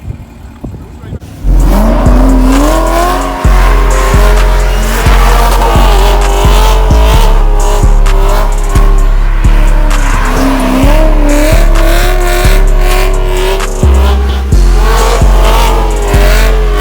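A loud car engine roars while its tires let out a long, wavering squeal as it slides, with a steady thumping beat underneath throughout.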